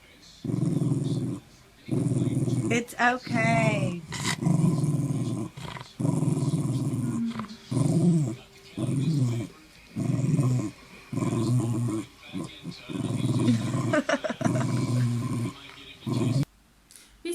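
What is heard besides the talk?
dog growling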